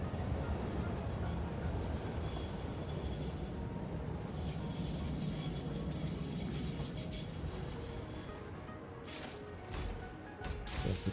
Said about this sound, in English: I'm going to go ahead and stop the train here and get out.